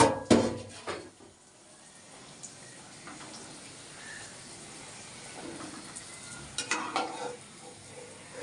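Food fries in a kadai while luchi and kumror chhokka are prepared, a soft, continuous sizzle running throughout with a few louder clattering stirs near the start and again toward the end.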